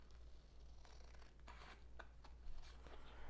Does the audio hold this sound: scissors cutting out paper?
yes